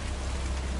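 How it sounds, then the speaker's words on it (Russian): Rain pours down at an abandoned summer camp, a continuous dense hiss of drops on surfaces, close and uniform, with no talk. "Под дождем ходим."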